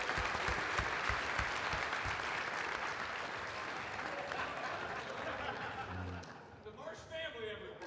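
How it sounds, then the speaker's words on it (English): Convention crowd applauding cosplayers on stage at a live show, a dense steady roar of clapping filling the room before it thins out near the end as a voice begins to speak. "A round of applause,"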